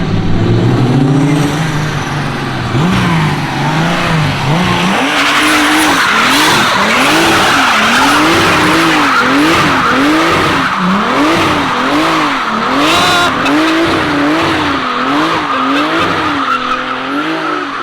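A BMW E36 wagon sleeper spins its rear tires, a loud, continuous tire squeal warbling up and down over a roaring, revving engine for the whole stretch.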